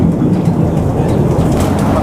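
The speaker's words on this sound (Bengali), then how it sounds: "আর শুরু হয়ে গেছে আমাদের বুলেট ট্রেন রাইড।" An amusement-park 'bullet train' ride at Dream Holiday Park sets off around a pond, giving a loud, steady low rumble of rolling wheels that carries without a break.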